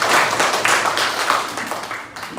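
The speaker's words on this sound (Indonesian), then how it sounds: "Tepuk tangan lagi untuk kelompok 2." A classroom group claps for a student team, a short loud burst of many hands patting in uneven waves, close by, fading slightly at the end.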